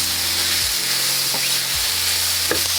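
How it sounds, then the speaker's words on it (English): Peppers and garlic stir-fry in a pan under a loud, continuous sizzle and hiss, with a few dull scrapes and knocks as the vegetables are turned. "about 2 minutes after we added our peppers and garlic, I stir fry it."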